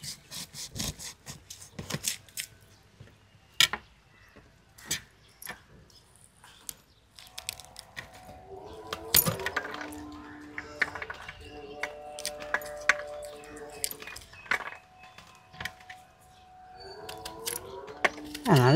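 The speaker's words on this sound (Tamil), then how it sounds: "இப்போ மாதுளை பழத்தை உரித்து எடுத்துப்போம்." A whole pomegranate is peeled by hand in a home kitchen, with repeated close scraping, tearing and crackling of the tough rind, joined later by a faint voice in the background.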